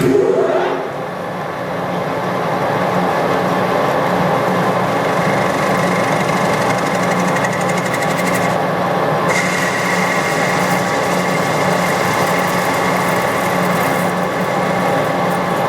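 A metal lathe runs with a steady mechanical hum and whine as a hand-fed cutting tool faces the end of the workpiece, continuous and close.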